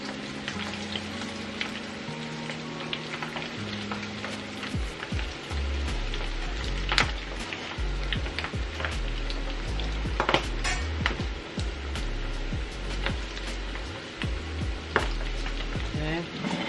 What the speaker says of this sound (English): So these are going to fry about a few minutes on each side